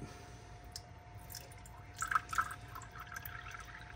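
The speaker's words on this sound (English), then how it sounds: "we need 170 grams of water. So we're gonna pour this in this cup" For pizza dough, 170 grams of water is poured into a cup sitting on an Ankarsrum Assistent Original stand mixer, giving faint, brief drips and splashes in a quiet kitchen.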